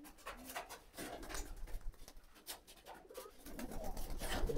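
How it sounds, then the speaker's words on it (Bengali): Released pigeons calling outdoors, including red Shiraz pigeons, with soft repeated coos spread through a noisy background of rustling and movement, moderately faint, no speech. "আর এই যে দেখেন সবাইকে ছেড়ে দিয়েছি, কি সুন্দর ডাক দিতে আছে এখন"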